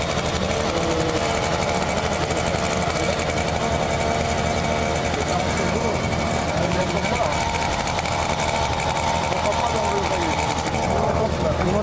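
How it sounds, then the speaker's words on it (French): A Rotax ultralight aircraft engine drones loudly and steadily throughout, a constant buzzing roar that never lets up. "Le système LM, il a un moteur rotax."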